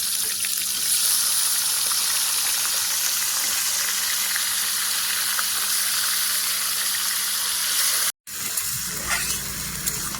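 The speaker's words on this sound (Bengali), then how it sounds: "এবারে মাংসটা দিয়ে দেবো" Marinated chicken goes into a hot pan for a Bengali chicken kosha, giving a steady, close hiss and sizzle of frying meat with faint stirring, broken by one brief dropout near the end.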